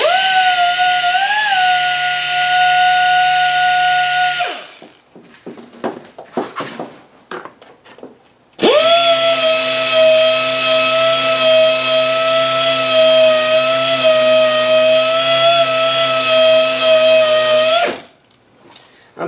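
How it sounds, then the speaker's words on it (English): Power sander grinding paint off the battery tray and ground contact of a 2001 Lexus IS300, a steady loud whine in two long runs separated by a few seconds of quieter rattling and tapping. "I'm sanding these two parts down just because you want a good ground connection."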